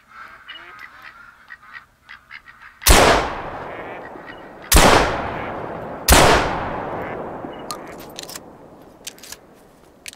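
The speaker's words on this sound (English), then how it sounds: "The pond was full of ducks." Ducks call from a pond in the hunting video game The Hunter. Scattered quacks and honks sound first, then three loud, sharp gunshots ring out with long decaying echoes, and more calls follow.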